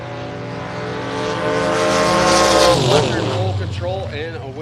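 Drag race cars, a Chevy Nova and a Chevrolet S10, launch side by side at a drag strip. Engines build to a loud roar, then a tire squeal and a rising, rapidly fading whine follow, with an announcer talking over them.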